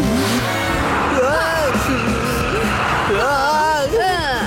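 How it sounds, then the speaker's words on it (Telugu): A cartoon car being driven, with squealing, swooping tire and engine tones rising and falling over a dense, loud bed of music and effects. "ఒక కిట్టీగా మారి కారు నడపడం చాలా బాగుంది"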